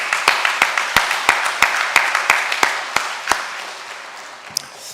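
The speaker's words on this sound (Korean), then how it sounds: "박수로 환영하겠습니다" A church congregation applauds to welcome a returning guest professor at a Sunday morning service, steady crowd clapping with sharp individual claps standing out, filling the room and fading toward the end.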